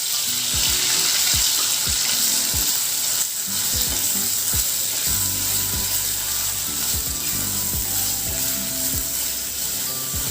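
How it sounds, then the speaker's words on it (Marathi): Ground spice paste for a Marathi chicken rassa curry sizzles and fries in hot oil in a wok over a medium flame. A steady, loud hiss runs throughout, with scattered clinks and scrapes from stirring and no talk. "त्यामध्ये आता मी हे जे वाटण आपण मगाशी वाटलं होतं ते छान तेलामध्ये घालून आपण परतून घेणार आहोत"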